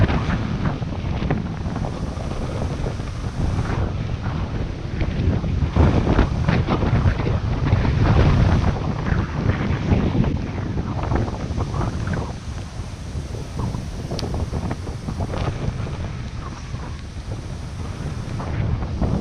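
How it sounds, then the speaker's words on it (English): Strong wind roars across a fishing boat on open water, buffeting the microphone in continuous gusts while waves wash faintly underneath, with no voices. "the most wind I have felt in months."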